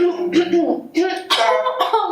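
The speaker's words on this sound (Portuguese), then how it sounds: "O pigarrear, o tossir" A person with Tourette syndrome clears their throat and coughs as a simple tic, in a few short, rough bursts, close and fairly loud, with voiced throaty sounds between them.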